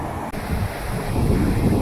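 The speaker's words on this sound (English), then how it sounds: "includes this sort of mini waterfall that's coming from this side of the road, along with the main one behind it" A small roadside waterfall and stream in North Wales pours with a close, continuous rushing hiss of water, lightly buffeted by wind noise.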